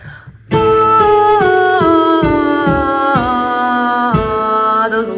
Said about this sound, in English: We're going to sing on E and ah.